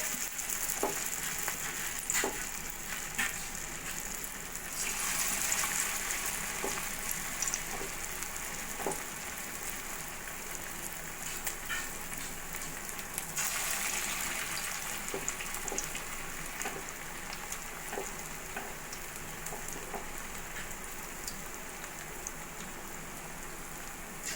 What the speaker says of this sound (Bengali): তেলটাও গরম হয়ে গেছে এবার আমি মোচাটাকে বড়ার আকারে ভেজে নেব একটা একটা করে